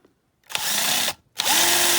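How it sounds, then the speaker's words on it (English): Small power drill boring out the single rivet holding the engine in a die-cast Matchbox Speedkings K24 Lamborghini Miura toy car: two close, loud bursts of whining drilling, the second ending with the bit grabbing and the pitch settling. "drill grabbed hold there quite quickly"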